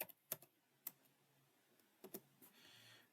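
Scattered keystrokes click on a computer keyboard, a handful of quiet, separate taps and short pairs at an irregular pace with no speech.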